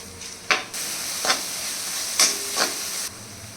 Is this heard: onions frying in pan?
yes